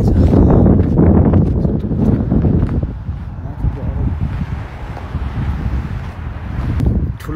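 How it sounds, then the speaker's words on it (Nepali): Strong wind buffeting a microphone at a Rocky Mountain lookout, loud rumbling gusts that ease and swell again over several seconds. "हावा त बवाल चल्ने रहेछ।"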